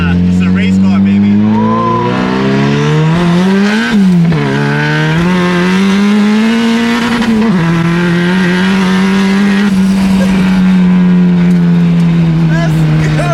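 A big-turbo Nissan KA24DET race car accelerates hard on a public street, its engine note loud and close and climbing steadily in pitch, with a brief dip and another pull.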